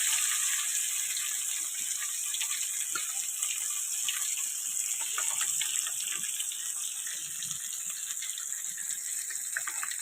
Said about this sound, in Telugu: ఈ పీసెస్ అన్నీ కూడా ఆయిల్లో ఫ్రై చేసుకోవాలి.